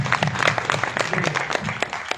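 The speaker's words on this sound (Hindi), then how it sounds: "एक बार अपनी अपलाइनों के लिए जोरदार तालियां बजाओ, जोरदार वाली तालियां" An audience at a Modicare network-marketing meeting breaks into brief, fairly distant applause, a dense patter of many hands clapping together.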